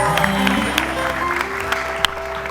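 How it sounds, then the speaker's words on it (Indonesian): A studio audience at a Family 100 game show between competing school teams claps in a short, steady burst of applause, with a few louder individual claps standing out over the crowd. "Tepuk tangan untuk Mama Rizka."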